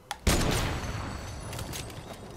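Infantry rifle fire in Fortnite, a sharp close shot followed by a dense, noisy burst of gunfire that carries on loud and rough before easing slightly, with no voices.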